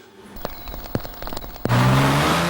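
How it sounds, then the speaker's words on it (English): A Porsche 911 Turbo launches off the line on a wet track, engine revving with some clicks and bumps before a sudden loud surge of roaring acceleration and wheelspin, close and sustained. "So, off the line, and even with massive attraction, the Porsche spins its wheels."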